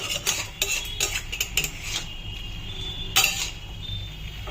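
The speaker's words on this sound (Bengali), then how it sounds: "তারপর ভালো করে মশলাটার সাথে চিকেনগুলোকে ভালো করে মিশিয়ে নেব" A spatula stirs chicken with spices in a kadai, giving repeated close scrapes and metallic clinks against the pan with brief pauses. Soft frying hiss sits underneath, and no one talks.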